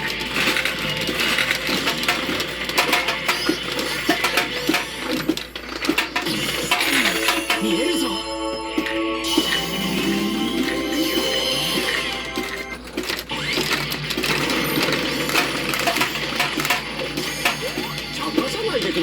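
Metal pachinko balls from a Gundam pachinko machine clatter and rattle continuously into a catch bin, a busy jingling cascade with mechanical whirring behind it.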